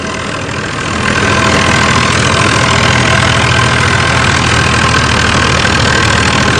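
An HMT tractor runs steadily, driving a 7-foot Punni super seeder. Its engine drone is loud and continuous, rising in level about a second in and holding a dense, even rumble to the end, with no voices.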